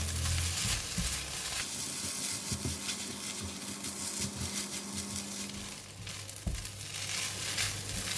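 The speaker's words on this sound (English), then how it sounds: "Stir fry until all the ingredients combine" Vegetable egg fried rice with kailan stir-fried in a pan, a soft hissing sizzle with a few scattered scrapes and one sharp knock, close and fairly quiet, no voices.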